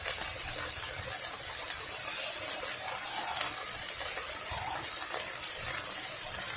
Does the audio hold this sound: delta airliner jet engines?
no